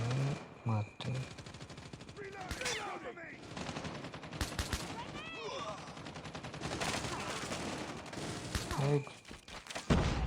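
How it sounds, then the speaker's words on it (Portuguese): Call of Duty gunfight with rapid bursts of machine-gun and rifle fire crackling back and forth, loud and near, broken by thuds and game voice callouts, while a player speaks briefly. "tô no meio do tiroteio"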